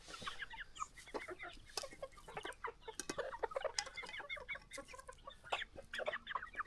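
Several hens clucking and chattering nearby on a village poultry farm, a busy stream of short, irregular clucks, quiet but clear, with no voices over them.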